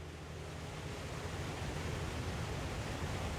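Steady broadband rush of a waterfall in the video game Satisfactory, a dense constant roar with a low rumble underneath, continuous and fairly loud throughout with no speech.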